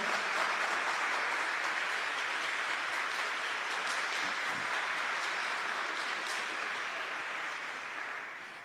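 A crowd at a religious talk on consecration to the Virgin Mary gives a round of applause, sustained even clapping that carries on for several seconds before tapering slightly at the end.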